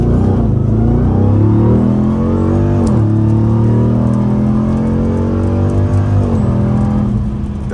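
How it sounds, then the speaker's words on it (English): A 2024 RAM TRX Final Edition pickup with a supercharged Hellcat V8 is driven at full throttle, its loud engine roar rising in pitch through several gear changes, heard from inside the cab with no talk. "Okay, we're gonna go full throttle here."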